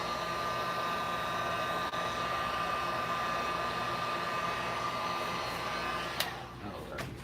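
Heat gun blowing a steady, loud rush of hot air onto a wooden bowl, a constant whooshing hum with a faint tonal whine, ending with a few small knocks and a drop in level.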